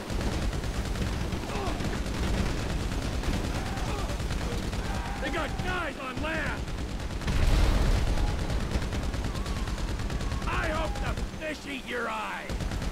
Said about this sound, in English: I'm trying to shoot him.